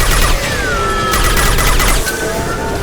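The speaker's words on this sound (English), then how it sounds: "Shoot the injection tube!" Rapid gunfire in the Mass Effect 2 finale as the player shoots at an injection tube, a dense continuous volley of loud shots layered with game effects and a rising whine, with no talk.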